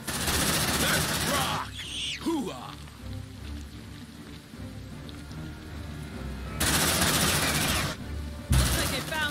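Bursts of squad gunfire in Aliens: Dark Descent come as dense, loud automatic volleys at the start and again near the end, with quieter stretches of game noise and shouting between them.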